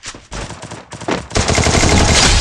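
Video game gunfire erupts in short bursts at first, then turns into a dense, sustained automatic barrage that is loud and close.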